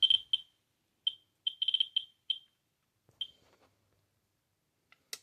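A handheld radiation detector beeps near uranium glass, giving sharp high-pitched chirps in irregular bursts, some single and some rapid clusters, clear and close with silence between, trailing off toward the end.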